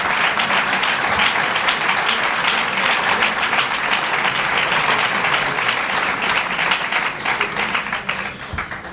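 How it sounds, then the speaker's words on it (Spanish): Loud, sustained applause from a large audience at a talk introducing speaker Fernando Paz, dense clapping filling the whole stretch and thinning slightly at the end. "Con un fuerte aplauso, tiene la palabra Fernando Paz"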